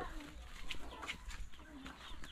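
Farmyard chickens clucking in short bursts among quiet outdoor background noise, with people talking softly at a distance.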